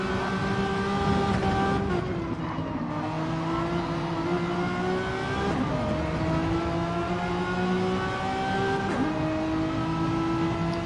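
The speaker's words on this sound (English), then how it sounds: "The engines sound quite nice, don't they?" Touring car engines in a racing video game roar continuously, their pitch rising and dropping with gear changes, loud and close throughout with no talking.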